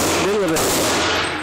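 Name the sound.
Smith & Wesson Model 63 revolver gunshot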